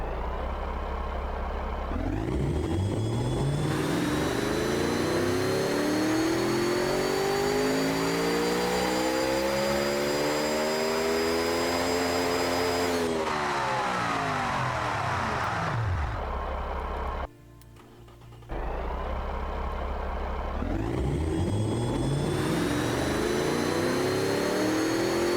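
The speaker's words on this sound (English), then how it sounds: "Holy cow, this engine sounds absolutely awesome" A virtual car engine in the Automation car company tycoon game revs up and down in long sweeping climbs and falls, loud and close, with a brief cut-out midway before it winds up again.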